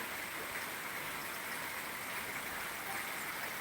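Rain falls in a steady, even wash of soft hiss and patter, faint and continuous with no voices.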